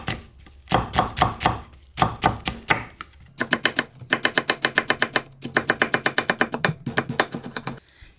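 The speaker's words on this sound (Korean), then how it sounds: "사과도 얄팡얄팡하게 썰어주세요." A knife cuts an apple into thin julienne strips on a cutting board, rapid crisp taps in quick bursts with short pauses between runs, close and clear with no talk.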